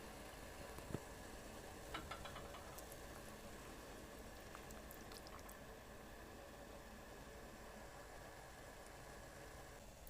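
Water with varenyky boiling in a pot, a low steady bubbling hiss, faint and continuous, with a couple of small clinks early on.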